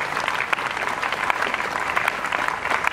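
A church congregation applauds loudly and steadily for the whole stretch, a dense wash of many hands clapping together at a prayer service, with no talk over it.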